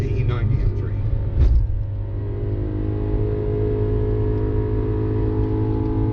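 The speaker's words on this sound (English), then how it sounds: "And just listen to that engine." A 2011 BMW E90 M3 V8 engine running, a loud, steady low rumble with a brief rise in revs early on, then a smooth constant drone close by.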